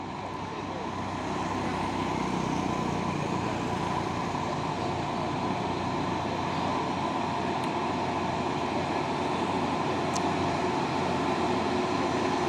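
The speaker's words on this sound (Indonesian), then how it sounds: "Masuk lagi truk Puso Victor ini ya." A Mitsubishi Fuso truck labors up a steep hill road, its engine a loud, steady low drone that holds for the whole stretch with road noise mixed in.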